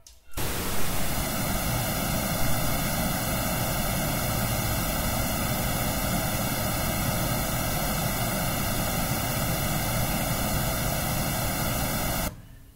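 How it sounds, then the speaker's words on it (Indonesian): Pink noise test signal plays through a speaker for a real-time analyzer measurement while a mixer is set up, a loud, steady hiss that starts and stops abruptly and runs unbroken for about twelve seconds with no talk. "kemudian teman-teman tekan tombol pink noise untuk mulai merekam, untuk memulai mengcapture frekuensi responnya"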